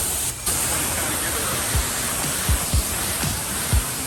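A pressure sprayer rinses a Hyundai IONIQ 5 with matte paint, a steady broadband hiss of water spray running continuously with a brief dip near the start and a few low thumps over it.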